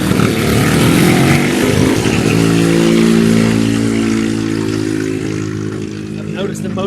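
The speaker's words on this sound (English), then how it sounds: "the medical motorbikes are getting busier" Medical motorbikes pass along a busy street, a loud engine drone that rises and then holds steady tones before slowly fading into the distance, with people talking over it.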